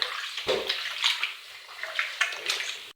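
Dough being washed by hand in water to make gluten from scratch: repeated splashing and sloshing strokes, close and fairly loud, coming in rhythmic bursts roughly every half second with brief watery swirls between.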